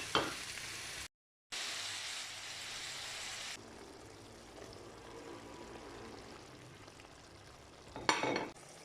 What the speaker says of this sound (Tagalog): So ilalagay ko na po yung ating sausages. Gigisahin ko lang po siya hanggang siya ay mag-brown.